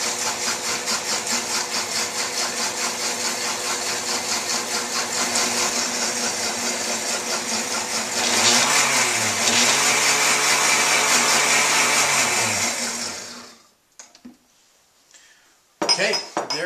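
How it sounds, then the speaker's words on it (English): A blender emulsifies oil into a spicy Meyer lemon and ginger dressing, a loud steady whirring drone that runs about fourteen seconds before cutting off, with a brief clink afterward. "Putting them in the blender will make an emulsion or blend those ingredients together so they will stick together."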